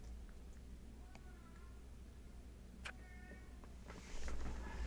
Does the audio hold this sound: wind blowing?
no